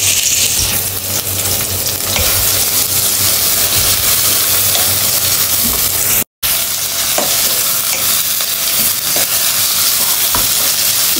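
Onions and garam masala frying in a pan for a village-style chicken curry, a continuous close sizzle with scraping stirs of a spoon, steady and loud throughout with one brief cut in the middle.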